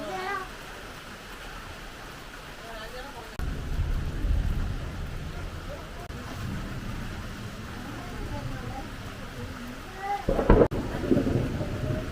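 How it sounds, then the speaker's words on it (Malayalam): Heavy rain with thunder, a steady hiss of rainfall on surfaces under deep rolling rumbles that swell after a few seconds, ending with a sharper nearby crack. "മഴയ്ക്ക് മാത്രം വലിയ ബുദ്ധിമുട്ടാണ്"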